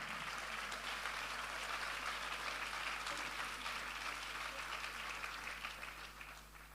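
A church congregation of women applauds together in a dense, steady clatter of clapping that softens slightly in the final moments, with no talk over it.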